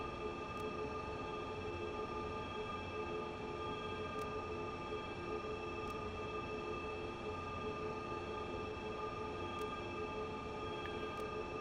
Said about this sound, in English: There's a Dosto coming the other way.